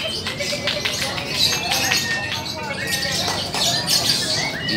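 Murai magpie robins sing at an outdoor songbird contest, sharp chirps and trills overlapping steadily amid crowd babble and distant voices.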